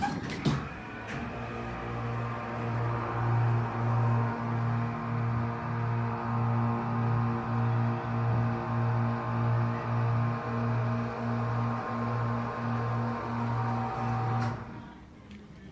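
Motor of a 1978 Otis hydraulic elevator running as the car ascends, a loud steady low hum with a gently pulsing tone, starting with a thud and cutting off near the end.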